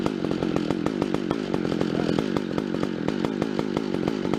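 Pioneer power saw running with a worn-out clutch, a loud, continuous buzzing two-stroke engine drone with rapid steady pulsing, close by.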